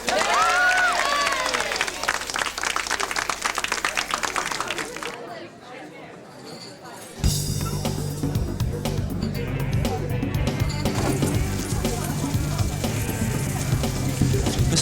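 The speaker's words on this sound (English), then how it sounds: "Let's have a rousing cheer for John Good." A large crowd cheers and chatters loudly, with a brief quieter lull partway through before a sustained roar of voices returns.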